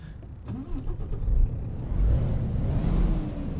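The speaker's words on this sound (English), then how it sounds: "Yep, that sounds like a Packard engine." A modded Kenworth W900B truck's Packard engine in American Truck Simulator cranks and catches, then settles into a steady, loud rumbling idle that continues to the end.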